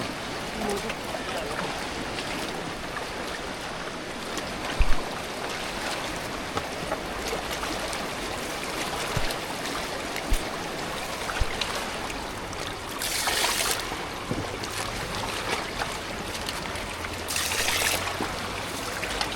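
Water of the Rangeet river near Darjeeling flowing past, a constant broadband rush heard close and steady throughout, with brief louder splashy surges and people talking at times.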